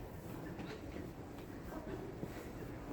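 A Japanese train station at Otsuki near Mount Fuji carries a low, steady rumble of rail traffic with faint clattering and higher tonal tones drifting in, quiet and distant throughout.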